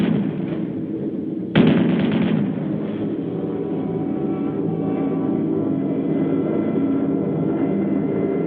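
Wartime aerial combat with anti-aircraft flak and gunfire: a sharp burst punches through a continuous roaring aircraft drone, muffled and band-limited like an old recording.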